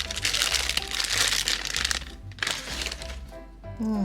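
A clear plastic bag holding a Hirono toy figure crinkles loudly and close up while being handled, with continuous crackling and some brief pauses.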